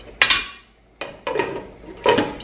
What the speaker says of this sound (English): Taking a lid and cover it